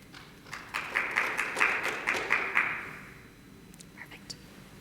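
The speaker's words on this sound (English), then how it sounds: "So please give her a round of applause" A small conference audience gives a round of applause at an emergency medicine award presentation. The scattered claps swell for about two seconds, then thin out into a quiet room with a few stray taps.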